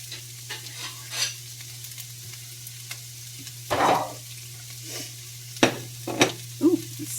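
Egg-soaked bread frying in a pan, a low steady sizzle under a constant hum, broken by a few spatula scrapes and flips, with no talking.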